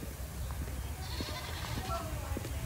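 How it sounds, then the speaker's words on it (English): A goat bleats once or twice at a petting area of a garden and waterfall park in Chiang Mai, a short wavering cry against outdoor background noise while people talk nearby. "Oh, here's a goat."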